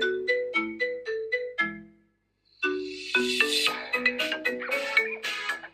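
An iPhone ringtone made from a TikTok song plays a bright, clear synth melody of repeated notes, breaks off briefly, then returns fuller and louder.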